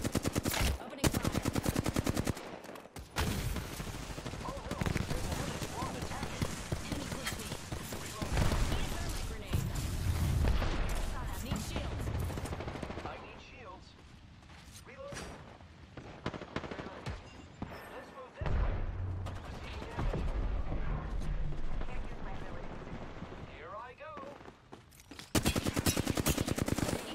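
Rapid automatic weapon bursts in an Apex Legends match ring out loud and sustained, with brief pauses and reload gaps between volleys, while players talk over the action.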